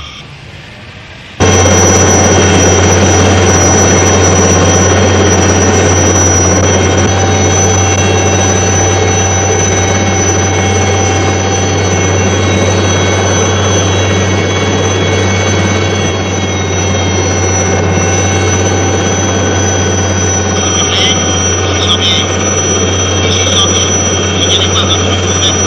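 An aircraft engine drones steadily in flight for a radio drama sound effect, a loud continuous hum with a strong low tone that starts abruptly and holds throughout, with faint voices over it.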